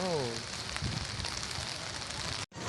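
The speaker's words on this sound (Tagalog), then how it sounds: "So, maulan." Steady rain pours down in a dense, unbroken hiss, loud and close, with a voice heard briefly at the start.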